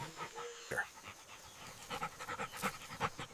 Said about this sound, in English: Controlled panting reduces overheating without burning extra energy.